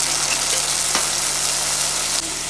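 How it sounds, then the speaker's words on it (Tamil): Steady sizzling of tomatoes sautéing in a hot pan for black-eyed pea curry, a continuous crackling hiss with no voices, close and fairly loud throughout. "அதையும் சேர்த்து நல்லா வதக்கிடலாம்"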